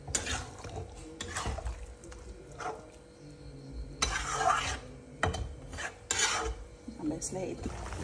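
A spoon stirs food cooking in a pot with irregular scraping and clinking strokes, some soft sizzling underneath, close and fairly quiet.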